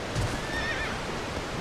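A horse in the video game Shadow of the Colossus gives a short whinny over a soft background wash, with faint hoof clip-clop.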